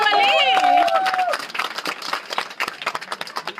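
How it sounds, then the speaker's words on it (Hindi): An audience claps in a dense, lively burst of applause that starts right after a voice and continues steadily at a talk or seminar. "अरे तालियां तो बजा लो 5 करोड़ वाली।"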